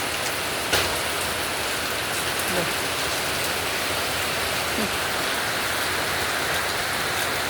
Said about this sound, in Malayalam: നോക്ക് എന്ത് വലിയ മഴയാണെന്ന്